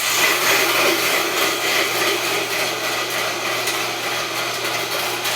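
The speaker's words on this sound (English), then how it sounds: "that's the sound of the mill." A Retsel grain mill grinding white winter wheat gives off a loud, continuous, gritty whirring roar with a steady motor hum underneath, unchanging throughout.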